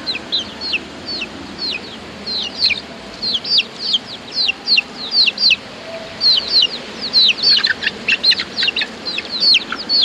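A chicken used as an offering in a ritual at a Balinese cemetery clucks in quick, repeated bursts close by, the calls coming faster and denser toward the end.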